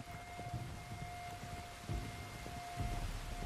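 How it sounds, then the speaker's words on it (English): Steady rain falls in the video game Red Dead Redemption 2, a constant hiss with a few low thumps and soft rumbles underneath and a faint steady tone in the background. "You were right about the damn rain."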